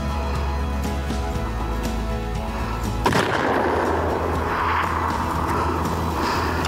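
A single loud rifle shot fired at an elk 475 yards away during a New Mexico hunt cracks sharply, then a long booming echo rolls and fades over the open country.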